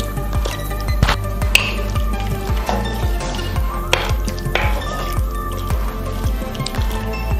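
A spoon stirs a pot of creamy vegan broccoli and potato soup, giving close, wet squelching and sloshing strokes in a steady rhythm with occasional light clinks against the pot.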